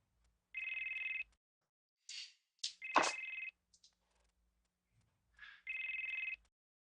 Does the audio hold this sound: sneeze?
no